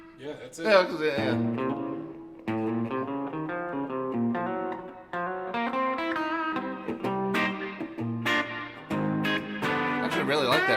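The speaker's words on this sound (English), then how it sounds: "I actually really like that reverb. It actually sounds really good." Electric guitar played through a Catalinbread reverb pedal, with sustained, ringing notes and chords that carry a washy reverb tail, loud and continuous across the phrase.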